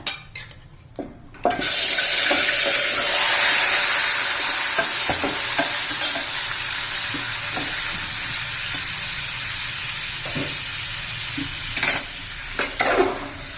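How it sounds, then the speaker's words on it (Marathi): Marinated chicken hits hot oil in a pan for kharada chicken and sizzles loudly and steadily, with occasional clinks and scrapes of stirring against the pot. "तर त्यात आपण हे चिकन घालून घेऊया"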